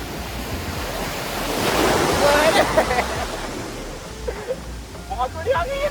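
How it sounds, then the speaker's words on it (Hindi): Sea waves surge onto Golden Beach in Chennai with a rushing, swelling roar that builds and recedes under wind noise, while people shout and talk excitedly nearby. "अरे लहर आ गई"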